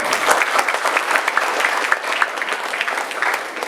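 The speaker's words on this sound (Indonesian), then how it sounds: "Tepuk tangan dulu Mas Afin" Lively applause from a school audience, close and bright clapping from a group with distinct individual claps audible in the texture, steady for several seconds without speech.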